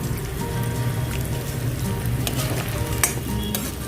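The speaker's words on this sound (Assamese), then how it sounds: "জুইৰ ফ্লেমটো কমাই মই পিঁয়াজখিনি গল্ডেন ব্ৰাউন হোৱালৈকে ভাজি থাকিম।" Onions fry in a pan over a lowered flame, making a loud, continuous close sizzle with scraping stir strokes and a few sharp crackles, with no voices.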